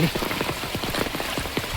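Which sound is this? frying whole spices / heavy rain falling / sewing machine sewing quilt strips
heavy rain falling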